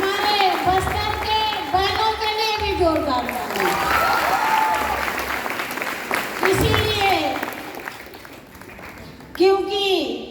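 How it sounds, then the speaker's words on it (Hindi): Crowd applause for Bastar sisters at a company event in India, a steady clapping wash running beneath a speaker addressing the crowd through a loudspeaker. "हमारे बस्तर के बहनों के लिए भी जोरदार तालियां।"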